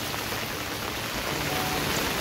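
Heavy monsoon downpour in Konkan beside the flooding Kajali river, a dense, steady hiss of rain pounding the ground without a break and with no voices.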